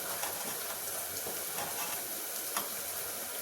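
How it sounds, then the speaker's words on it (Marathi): Cumin and mustard seeds fry in hot oil, giving a dense, steady sizzle with faint crackles and pops scattered through it, close and continuous. "जिरे आणि मोहरी मिक्स आहे, हे मी आता तळायला टाकते"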